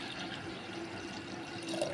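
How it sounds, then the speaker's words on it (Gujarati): Water is poured into a pot of soaked moth beans before boiling, a quiet steady trickle and splash close by with no talking. "આપણે મઠ આમાં નાખી દીધા છે ત્યારબાદ આપણે પાણી નાખીશું"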